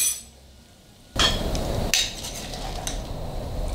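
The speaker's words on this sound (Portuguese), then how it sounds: "Vou retirar essa panela do fogo." A cooking pot for onion soup is lifted off the stove: a sharp metallic clank lands after a quiet start, a second clink follows soon after, and faint kitchen rattles fill the rest.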